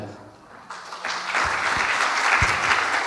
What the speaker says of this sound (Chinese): 让我们用热烈的掌声欢迎讲者范Szu-Yueh带来这个分享